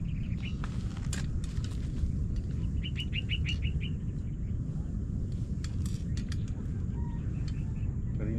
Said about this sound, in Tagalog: Yung tunog ng ibon.